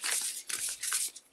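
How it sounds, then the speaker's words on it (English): A deck of tarot cards is shuffled up close, with quick crisp riffling bursts and brief pauses between them, heard alone without any voices. "I picked up one deck to start shuffling"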